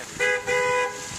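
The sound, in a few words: car horn honking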